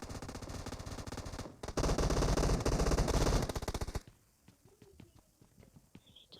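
Rapid automatic gunfire from the PUBG Mobile video game, loud bursts of fast repeated shots for about four seconds, then sparser, fainter single shots and clicks trailing off.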